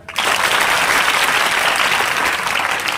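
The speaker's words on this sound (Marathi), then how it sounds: "या मुलांसाठी टाळ्या." Loud, sustained applause from an audience honouring schoolchildren at a Marathi motivational lecture, a dense wash of clapping that starts abruptly and holds steady to the end.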